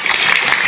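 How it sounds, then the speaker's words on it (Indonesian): Crowd at an Islamic religious gathering in Indramayu clapping for the police, a loud, dense burst of applause filling the short moment without a break. "Tepuk tangan tuh Pak Polisi"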